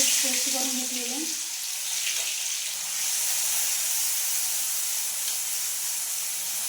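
Garlic paste sizzles in hot oil with mustard seeds, a steady close hiss throughout, with a brief tonal sound near the start and no talk.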